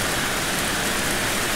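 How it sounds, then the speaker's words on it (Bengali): Heavy rain pours outside a shed in a loud, dense, unbroken roar of drops with no voices. "দেখাচ্ছি বাইরে কিরকম বৃষ্টি হচ্ছে।"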